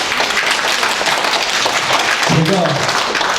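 At a forum, the audience claps in a sustained round that fills the room evenly, and a voice briefly cuts in partway through.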